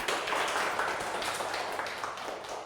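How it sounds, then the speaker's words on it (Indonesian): Applause from a classroom audience for a student group after a teaching practice presentation, a steady, dense patter of many hands clapping throughout at moderate loudness with no talk over it. "Beri sekali lagi aplaus untuk kelompok 1"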